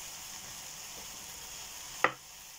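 Mushrooms frying in a pan, a soft steady sizzle throughout, with one sharp clink or tap near the end before the sizzle continues quietly.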